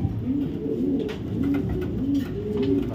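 Pigeons coo in a steady, repeating series of soft, rounded calls, several birds close by, with a low murmur of ambient noise underneath.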